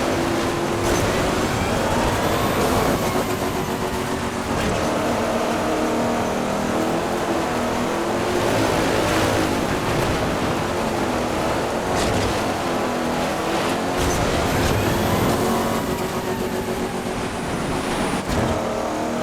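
Off-road vehicles race in MotorStorm Pacific Rift, a steady loud roar of engines revving and accelerating together for the whole stretch, with no talk over it.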